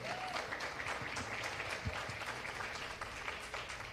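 Audience applause on a live afternoon television broadcast for a telethon, greeting a singer, continuous even clapping heard alone, soft and somewhat distant throughout.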